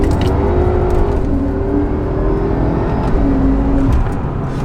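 A BMW M5 revs loudly and steadily through an active sound exhaust emulating a V12, its rising and falling whine sustained close up with no talking.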